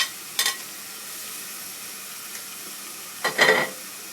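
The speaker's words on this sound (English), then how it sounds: "capsicum, which is cut into the small piece. Saute this for some time" Small pieces of capsicum sautéing in a pan for homemade pizza, a faint low sizzle with two brief louder bursts of stirring and hissing, one near the start and one near the end.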